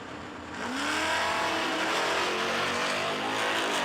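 A drag race launch between a 1963 Plymouth and a 2001 Chevy Camaro SS, with engines roaring up loudly and steadily after a quiet start, sustained racing-car noise heard from trackside.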